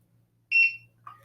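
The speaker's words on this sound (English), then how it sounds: "When you scan it, you'll hear a beep" A barcode scanner beeps while scanning a library book's barcode: one bright electronic tone of about a quarter second, then a shorter, lower blip, over a faint steady hum.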